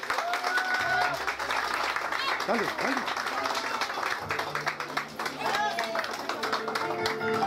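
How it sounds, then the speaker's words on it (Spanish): Party guests at a quinceañera celebration in Miami clap in a loud, steady burst of applause that lasts throughout, while someone talks over it and music plays faintly underneath. "Un aplauso, por favor."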